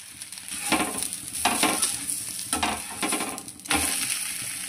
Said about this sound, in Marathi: तांदळाच्या पिठाचा जो आक्षे बनवलेले आहे आपण, याला आपण दोन्ही साईडला शिजवलं तरी चालेल